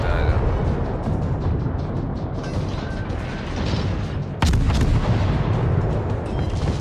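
Naval guns fire repeatedly in World of Warships aboard the French tier I cruiser Bougainville, a dense run of booming shots and rumbling blasts with one sharp, louder salvo partway through.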